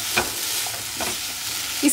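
Long-cut paneer strips stirred in a hot pan for restaurant-style paneer jalfrezi, a soft continuous sizzle with a few gentle scraping strokes, close and fairly quiet.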